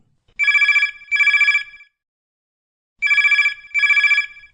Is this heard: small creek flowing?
no